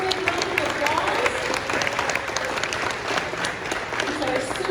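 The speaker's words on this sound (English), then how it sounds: "let's give all of these Spotlight students and families one more big round of applause" Applause for spotlight students and their families at an elementary school breakfast, a room full of people clapping steadily with crisp individual claps standing out and murmuring voices mixed in.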